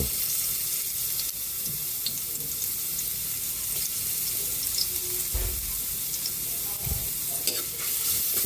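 Garlic sautés in hot oil for mung bean stew, giving a continuous, fairly loud sizzle with occasional scraping stirs and soft knocks.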